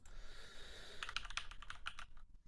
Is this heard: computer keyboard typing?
yes